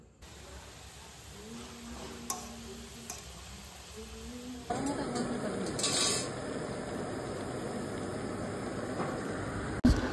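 Kochu (taro) frying in a pan of oil, a steady close sizzle and hiss that swells midway, with faint clinks and a low hum underneath.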